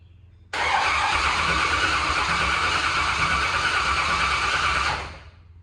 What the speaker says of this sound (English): Crank it over, make sure it sounds like gas compression.